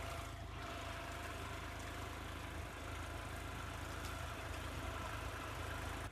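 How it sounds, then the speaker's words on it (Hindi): A tractor engine runs steadily in a sugarcane field as a dense, continuous mechanical roar with a low rumble, unchanging throughout and without any talk. "तो देखो वहाँ पर ट्रैक्टर चल रहा है"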